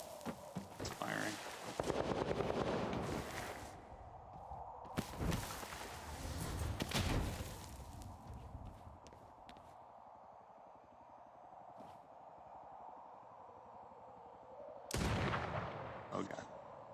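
Gunfire in the video game Vampire the Masquerade Bloodhunt, heard as several loud sharp bursts and cracks spread across the clip, with quieter game ambience between them.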